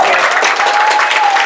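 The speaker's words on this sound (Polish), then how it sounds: "Wielkie brawa!" A crowd at a show-jumping competition claps loudly for the winning rider and horse, a dense, continuous burst of applause lasting the whole brief moment, with a faint tone running beneath it.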